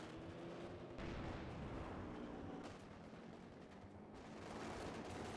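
Machine gun fire in Company of Heroes 2 during a 1v1 tournament match, with rumbling bursts and booming artillery-like blasts rolling continuously in a busy, fairly quiet battle mix.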